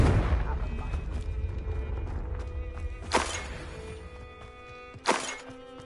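Confringo blasting spells in Hogwarts Legacy burst out twice as bright, sharp blasts spaced a couple of seconds apart over a rumbling, fading game background, with no voices.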